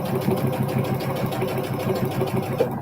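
A sewing machine runs steadily through a quilting or sewing project, its rapid needle strokes forming an even, close mechanical rhythm before stopping abruptly at the end; no talking.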